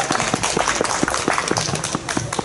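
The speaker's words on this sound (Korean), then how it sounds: "박수 한번 주세요." Close, loud clapping from a small gathering at an association meeting, with rapid sharp individual claps in a fast uneven rhythm throughout.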